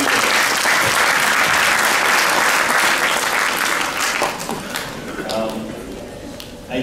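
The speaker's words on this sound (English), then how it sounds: "big round of applause to all of you for coming today" Loud, sustained applause from a large crowd at a youth convention at Ramakrishna Mission Delhi, clapping steady throughout and tapering slightly toward the end, with faint voices mixed in.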